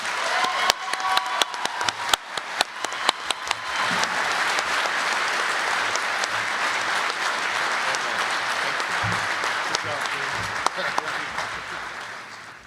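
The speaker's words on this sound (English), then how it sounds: "big applause for the 2025 Spokane Scholars in World Languages" A banquet audience bursts into applause for student scholars: a few scattered claps grow into dense, sustained clapping from a large indoor crowd that fades slightly near the end.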